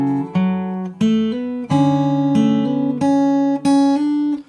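Fingerstyle acoustic guitar plays a bar of a piano piece, clear picked notes ringing in a steady melodic sequence with short gaps between phrases, close and alone without talk.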